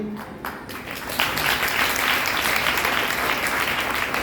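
Audience clapping during a Bhagwat Katha religious discourse at an ashram in Meerut, rising into a dense, steady round of applause after a quieter opening.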